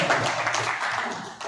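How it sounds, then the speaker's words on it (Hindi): An audience at a Hindi-Urdu poetry gathering, a kavi sammelan and mushaira, bursts into steady applause, a brief, fairly soft patter of many hands clapping together without pause. "एक बार जोरदार तालियां"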